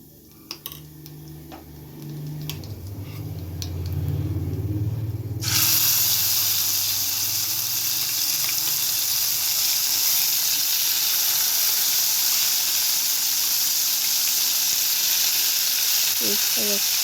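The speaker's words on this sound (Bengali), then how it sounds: "তেল গরম হয়ে গেছে। ফোড়নের জন্য কালো জিরে দেব। এবার পেস্টটা দিয়ে দেবো।" Nigella seeds and bottle gourd leaf paste drop into hot oil, with light clinks and quiet bubbling giving way to a sudden loud, sustained hissing sizzle that fills the rest of the stretch.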